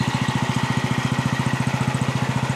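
A 1968 Cub Cadet 104 garden tractor engine runs close by, thumping in a fast, even rhythm with a steady mechanical rattle.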